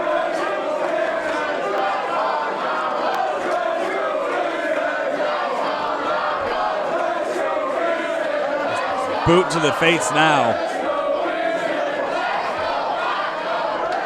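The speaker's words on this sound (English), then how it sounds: "Let's go Kingston, let's go Paco chants." A Glory Pro wrestling crowd chants back and forth for Eddie Kingston and Paco, a steady roar of many voices under close commentary, with a brief louder burst near the end.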